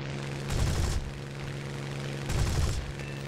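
Machine gun fire from a Spitfire Mk 2B fighter in War Thunder realistic battle, two short rattling bursts about two seconds apart over a steady engine drone.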